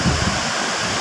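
Water gushes from five open shutters of the Kallarkutty dam in Idukki, a dense continuous roar of rushing flow, loud and steady with no break.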